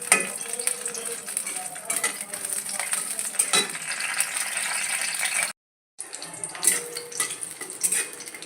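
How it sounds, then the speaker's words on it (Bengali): Dried chilies fry in hot oil in a wok, giving a bright, continuous sizzle with stirring and rattling of utensils against the pan, close by and interrupted by a short silent gap. "আগে মরিচটাকে ভেজে নেব।"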